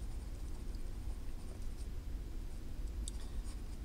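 Steady scratching of a pen writing a sentence by hand during a math optimization lesson, a continuous low, soft rasp that runs for several seconds with no talking over it.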